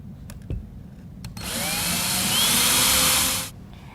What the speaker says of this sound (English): Now we need to drill pilot holes for the mounting screws.